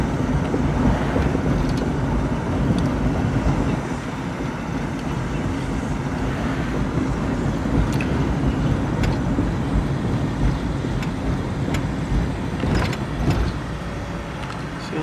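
Steady road traffic along Plymouth Road on Detroit's westside, cars and heavier vehicles rumbling past continuously at moderate distance, with occasional louder passes and faint voices in the background.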